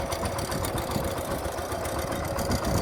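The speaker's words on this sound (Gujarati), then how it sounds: "જુઓ ટ્રેક્ટર જુઓ પછડાતું હાલે છે" A power tiller's engine chugs steadily close by without pause, a dense mechanical rattle with a low throbbing underneath.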